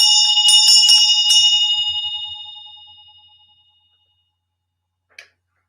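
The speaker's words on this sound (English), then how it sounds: "send y'all out with a nice bell ring." A bell named Gyra struck once, ringing out bright and clear with a long shimmering decay that fades over about four seconds, followed by a short faint tap near the end.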